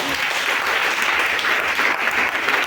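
A congregation at a church gathering applauds steadily, a dense even wash of clapping that holds for a few seconds without a break.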